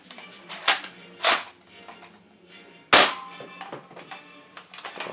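A Dart Zone Balistix Ops ball blaster fires sharp, close snapping shots, three strong cracks with the loudest near the end, plus softer clicks and handling noises between them.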